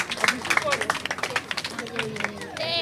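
An audience at a school event applauding, scattered rhythmic claps mixed with lively voices and crowd chatter, fairly close and busy.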